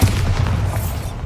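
Bombarda spell blast in Hogwarts Legacy, a short heavy booming burst with dense low rumble that stays loud and sustained for just over a second, standing alone without talk.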